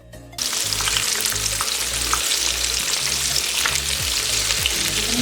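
Chicken pieces laid into hot oil in a pan over medium heat break into a loud, steady frying sizzle that starts suddenly and holds evenly throughout, with no one speaking.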